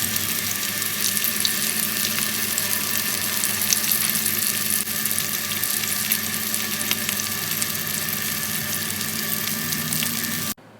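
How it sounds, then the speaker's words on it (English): Fish fries in a pan over a low flame, giving a continuous dense hiss and crackle, steady and close for the whole stretch before cutting off abruptly at the end, no talking. "I will fry this for some 15 to 20 minutes in low flame"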